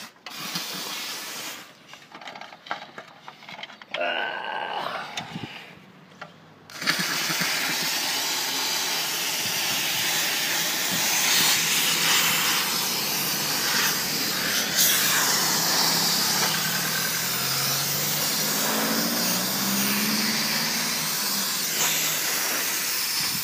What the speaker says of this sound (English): one thing you can do with this steam is you can just loosen everything up